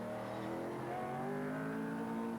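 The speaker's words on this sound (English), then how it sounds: "There's a new rally car, and this is its first appearance. British Leyland's 290 horsepower Rover" British Leyland's 290 horsepower Rover rally car, driven by Tony Pond, revs hard with a steady, fairly faint engine note whose harmonics climb in pitch as it accelerates, with no voices.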